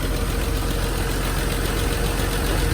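Mercedes-Benz W201 190 with a converted M104 engine, freshly brought back to life and low on coolant, running at a steady idle nearby, a dense even rumble with no voices over it.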